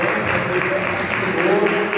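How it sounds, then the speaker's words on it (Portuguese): Loud applause from a church congregation, a dense continuous wash of clapping that swells slightly midway, blended with crowd noise and what may be music or voices underneath. "Aplauda bem forte a nossa vida"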